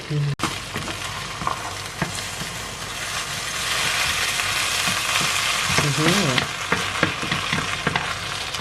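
A Thai omelette, kai jiao, fries in a pan with loud, continuous sizzling and bubbling oil close by, broken by scraping stirs and a brief high squeal, with faint voices underneath.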